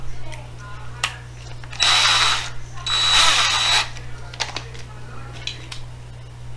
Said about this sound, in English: as always, I'm going to drill it a little deeper